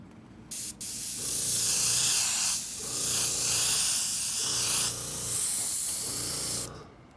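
Spray paint hissing onto a Flightline 1600mm Corsair model as another coat goes on, in several long, steady close bursts with short pauses between them.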